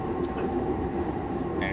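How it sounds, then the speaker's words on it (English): An Odakyu Line local train running in the BVE5 train simulator game, a steady low rumble of motor and wheels throughout, with a brief higher tone near the end. "This is the local train bound for Honatsugi."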